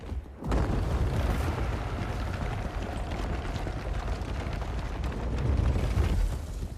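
A heavy, sustained explosion rumbles in Mortal Shell II, a dense roaring blast that swells in after a brief quiet start and holds loud and booming for several seconds.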